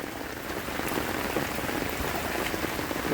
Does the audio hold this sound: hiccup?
no